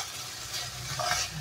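Vegetables frying in oil in a pan while being stirred: a steady close sizzle with scraping stirs throughout, and no voices.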